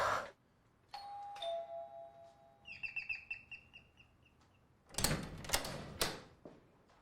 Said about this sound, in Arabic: بترن الجرس ليه؟